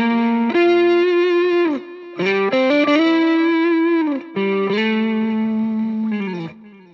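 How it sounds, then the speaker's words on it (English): Overdriven electric guitar through a Tube Screamer pedal, playing sustained notes and short melodic phrases with brief gaps, loud and close with no talk. "The other way when you can use the tube screamer is to boost the solo sound, not the rhythm sound."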